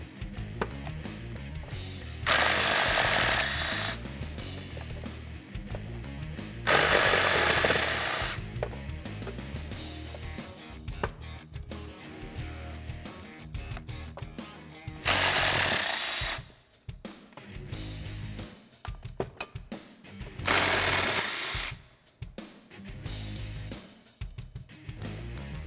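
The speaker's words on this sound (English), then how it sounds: "I'm just gonna use a 10 millimeter socket on an impact to remove them." Pneumatic impact wrench with a 10 mm socket spinning out driveshaft bolts on a 2018-2020 Mustang GT, loud bursts of hammering whir in several separate pulses with shop noise between, no talking.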